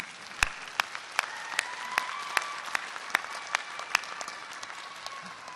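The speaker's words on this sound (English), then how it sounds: "Now we can clap." A commencement audience at Harrisburg University claps in scattered, uneven bursts, with individual sharp claps standing out over a thinner spread of applause.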